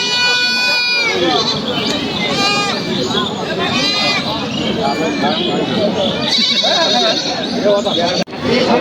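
Loud, repeated bleating of goats and sheep over a busy livestock market crowd, with calls overlapping almost continuously and voices chattering underneath.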